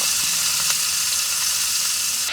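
Curry leaves and green chillies frying in hot oil for South Indian tomato rice give a steady, loud broadband sizzle throughout, with a few faint crackles and no voices.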